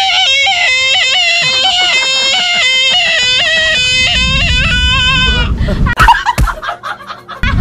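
A pig being slaughtered squeals loudly and repeatedly in high, piercing bursts, then the squeals give way to scuffling and mixed noises close by.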